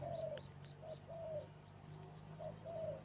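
Birds call outdoors at the foot of a mountain: soft repeated cooing phrases in short bursts, quiet and somewhat distant over a low background hum.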